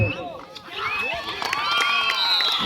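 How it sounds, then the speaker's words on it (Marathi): A crowd at a village kabaddi tournament cheers and shouts loudly, with excited voices and whistles rising together in a dense, close roar that swells toward the end. "आता मात्र टाळ्यांचा कडकडाट व्हायला सुरुवात झालेली आहे"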